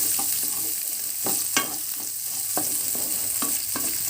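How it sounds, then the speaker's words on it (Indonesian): Shallots and garlic frying in hot vegetable oil make a constant close sizzle, with regular spatula scrapes and clicks every half second or so as they are stirred, and no speech. "lalu kita masak atau kita tumis untuk bawang merah dan bawang putihnya"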